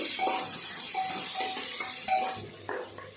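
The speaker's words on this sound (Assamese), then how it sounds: "পিঁয়াজখিনি মই অকণমান ৰঙচুৱা হোৱালৈ ভাজিম" Chopped onions fry in hot oil with whole cumin, a steady broadband sizzle with intermittent scraping stirs and light utensil clinks, close and fairly loud, thinning out toward the end.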